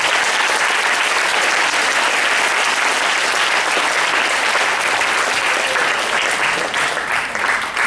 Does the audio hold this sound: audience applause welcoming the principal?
yes